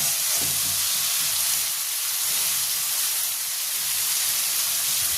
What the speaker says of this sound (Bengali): এবার এর মধ্যে আমি অল্প করে একটু জল দিয়ে দিচ্ছি